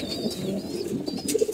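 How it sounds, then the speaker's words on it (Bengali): Pigeons kept as a breeding pair in a Bangladeshi loft coo softly and repeatedly, a low murmuring close by that runs steadily throughout, with a few faint higher chirps above it. "দেখতে পাচ্ছেন কবুতর দুইটা, এটা হলো নর, এটা হলো মাদি।"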